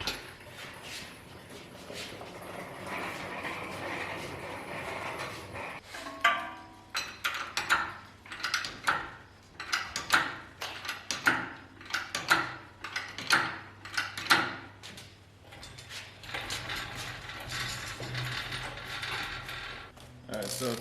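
A Mustang engine is turned over by hand, giving a series of clicking, ratcheting mechanical clunks in an uneven rhythm, with a person speaking briefly nearby.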